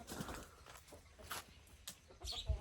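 Chickens cluck quietly in short, scattered bursts, faint and somewhat distant against a soft background.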